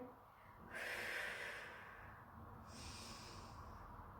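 During a Reformer Pilates shoulder bridge, a person takes faint, close breaths: a long airy exhale followed by a softer inhale, quiet and unaccompanied by talk.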